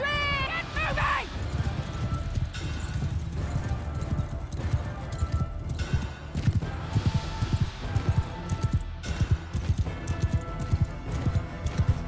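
Cavalry hooves clatter in a Mount and Blade Bannerlord battle, a dense, fast clip-clop of many horses with thumps and clashes, under a shouted order at the start.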